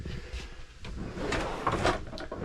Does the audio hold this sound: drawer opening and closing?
yes